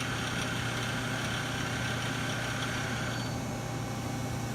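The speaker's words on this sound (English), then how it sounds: "Running up to maximum speed of 3000. Back down to 1000 RPMs." Mazak 18MS CNC lathe spindle winding down to 1000 RPM, a steady machine hum with a constant low tone and a high whine that fades slightly near the end, no talking.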